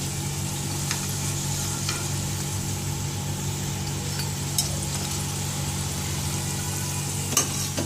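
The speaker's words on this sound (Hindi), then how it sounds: "तेल को गरम करके एहतियात से ये रोल्स इसमें डाल दीजिए पैन में।" Vegetable rolls fry in hot oil in a pan during Ramadan cooking, making a continuous even sizzle with a low steady hum beneath and a couple of faint clinks.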